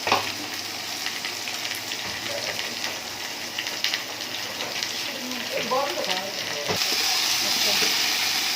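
Onion with cumin, ginger, garlic and onion pastes, coriander powder and dried chilli sizzling in a pan, a steady frying hiss with stirring clatter, someone speaking over it.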